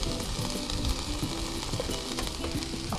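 Spinach frying in a pan while making spinach pies with béchamel, a loud, dense, continuous sizzle with crackling throughout and no talk.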